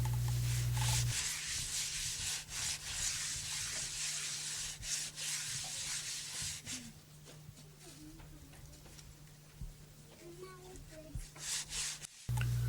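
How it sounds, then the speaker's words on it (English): Clay jar being rubbed smooth with a strand of strung baobab seeds in African pottery making, a close, continuous dry scraping and rasping with brief pauses and a steady hum underneath. "rubs the entire jar smooth with a necklace of strung baobab seeds"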